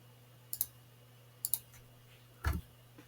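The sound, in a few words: computer mouse clicking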